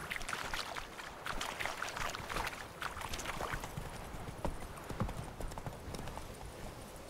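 Horse hooves trotting in The Witcher 3, a steady rhythmic clip-clop close up over soft ambient background.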